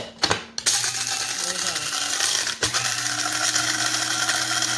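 Electric grinder milling Kona coffee beans to a super-fine powder, a steady whirring buzz with rattling, broken by a short stop near the start and a brief dip in the middle.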